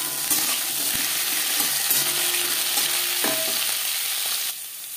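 Bitter gourd and carrot added to hot oil with cumin and green chilli, a close, loud sizzle with a few stirring knocks, easing off slightly just before the end.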